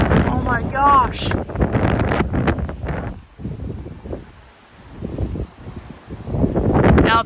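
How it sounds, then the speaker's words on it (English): A strong cold-front wind gust of around 50 mph in Frisco, Texas buffets the microphone in heavy, rumbling bursts, easing briefly in the middle before surging again, while a person talks throughout. "I'm not kidding, that was actually like a 50-mile-per-hour gust."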